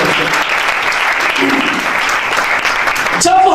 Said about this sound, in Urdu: سارے اپنے واسطے تالیاں ہو جاؤ